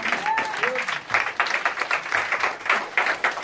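A church congregation breaks into applause during a seminar service, a dense, steady patter of many hands clapping close by, mixed with cheering voices throughout.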